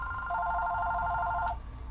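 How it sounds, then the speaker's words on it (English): A telephone rings once with a bright electronic warble lasting just over a second, fairly clear against a low background hum. "Whoop, there's the phone"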